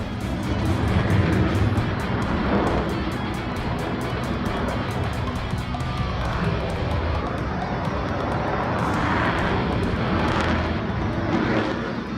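A Raptor fighter jet roars overhead while flying in a spin, a loud continuous rushing jet-engine noise that surges and fades in waves.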